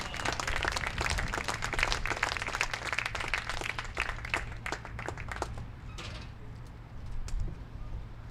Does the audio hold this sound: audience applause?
yes